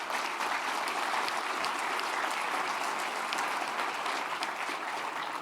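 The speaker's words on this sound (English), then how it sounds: "So I think that is worthy of a round of applause." A crowd claps steadily, dense, sustained applause filling the room from start to finish.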